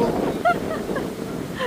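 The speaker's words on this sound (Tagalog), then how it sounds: "Mga bagyo na po, malakas po ang hangin." Strong typhoon wind batters a camp, roaring steadily against the microphone in a rough, continuous rush, and a voice is faintly present.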